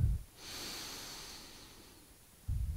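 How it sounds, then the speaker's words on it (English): One long, slow inhale and exhale through the nose during a standing yoga pose, soft and breathy, close to the mic with quiet room tone around it. "And take three deep breaths."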